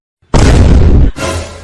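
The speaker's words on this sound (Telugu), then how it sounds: "ఈరోజు నా పుట్టినరోజు, అందుకనే బాంబులు వంచుతున్నా" Firecracker bombs set off for a birthday go off with a sudden loud burst that roars for most of a second, followed by a second, slightly quieter blast.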